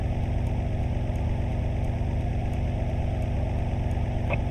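A car engine idles in the video game GTA while the tires warm up, a steady low rumble with an even pulse that stays constant and close, broken only by a tiny click near the end.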